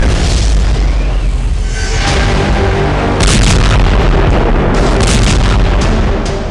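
A loud, booming hypersonic missile explosion followed by heavy rumbling blasts that roll on continuously, dense and close.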